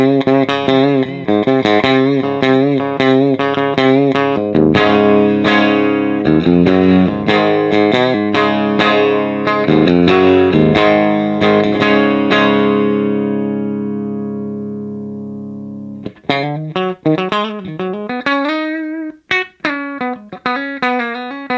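Electric guitar through a DiMarzio Area T615 pickup on a Granville Nash Vegas guitar, a run of clear picked notes and chords that rings out and fades slowly, then a brisk phrase with string bends, played alone.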